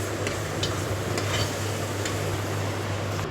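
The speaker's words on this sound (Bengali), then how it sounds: "এবার একটু আঁচটা কমিয়ে কমিয়ে মশলাটাকে ভালো করে কষিয়ে নিই" Spice paste sizzles and fries in a pan as it is stirred, a steady close hiss with a few faint clicks of the spoon against the pan, no talking.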